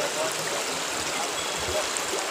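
Floodwater released through the seven gates of the Kelsar dam, opened 1.5 metres, rushing toward a village: a steady, dense, unbroken roar of flowing water, with no distinct splashes or pauses.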